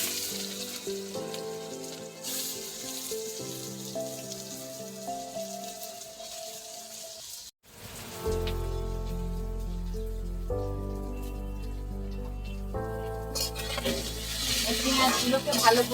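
Chopped onions frying in oil with cardamom, bay leaf and cinnamon for a mutton curry, a steady rain-like sizzle running beneath music that plays throughout.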